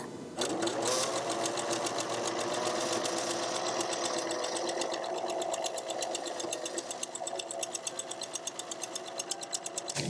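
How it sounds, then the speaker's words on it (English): A sewing machine stitches a dress, running steadily and loudly throughout with a fast, even mechanical chatter that holds close and alone. "I'm gonna start sewing."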